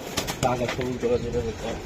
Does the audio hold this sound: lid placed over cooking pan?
no